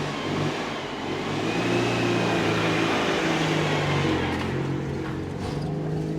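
A Citroen 2CV pushing through deep snow, its small engine droning and revving steadily at high load for several seconds, close and continuous with no talking over it.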